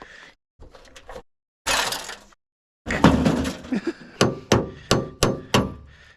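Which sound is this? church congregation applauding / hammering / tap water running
hammering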